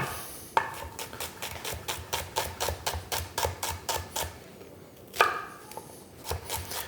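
A knife chops shallot on a board in quick, evenly spaced taps, close and crisp, pausing briefly before a few more cuts.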